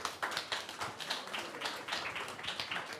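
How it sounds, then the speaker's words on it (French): An audience claps for the competitors at a burger competition, a fairly faint, steady patter of applause with uneven bursts of hand claps. "Bravo, vous pouvez les applaudir."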